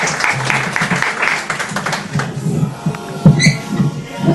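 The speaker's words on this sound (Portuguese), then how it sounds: "Uma salva de palmas para você." Applause from a church congregation at a testimony service, a scattered, moderately loud clapping that thins out over a few seconds amid room noise and faint voices.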